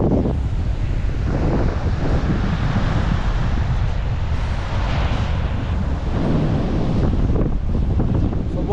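Strong wind buffets the microphone on an open beach while sea waves surge and wash ashore beneath it, a loud, continuous roar with no talking.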